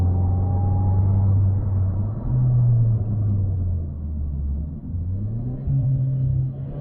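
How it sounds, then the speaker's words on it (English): Supercharged Mazda 6 driving at low revs, a deep steady engine rumble heard from inside the cabin, rising and falling gently through gear changes, with a faint thin whine early on. "I just enjoy the mild whine and the effortless pull down in the 2000 RPM range"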